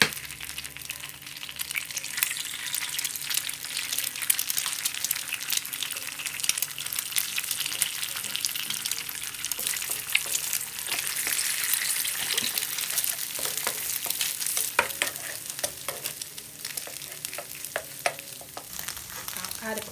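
Eggs fry in hot oil in a frying pan while making Chinese fried rice, giving a steady, close crackling sizzle with scattered pops that runs throughout without speech.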